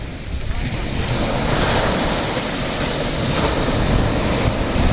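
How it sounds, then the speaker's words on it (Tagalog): Loud, continuous roar of ocean surf at a fishing spot in Batangas, mixed with gusting wind buffeting the microphone, waves crashing steadily with no pause. "Lakas na ng alon ah!"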